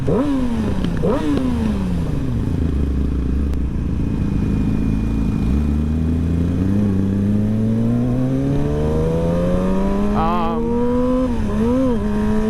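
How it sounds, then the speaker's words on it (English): A Yamaha R6 or R3 sport motorcycle engine, loud and near, its pitch rising and falling through repeated revs and gear changes, climbing steadily toward the end. "It's one of the best sounding bikes, in my opinion, that I've heard."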